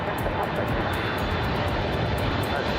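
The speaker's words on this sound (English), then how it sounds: "Runway shakes as this giant jet dives in, dropping hard toward the ground." A large jet airliner descends to land, a steady loud roar of engine and rushing air with no voices, the texture unchanging from start to end.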